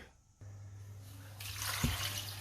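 Chicken feet being rinsed in salted water: a quiet start, then steady running and splashing water that swells into a broad hiss, with a brief louder slosh near the end and no talking.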